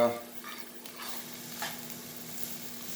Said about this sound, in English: And then we'll just stir them around a little bit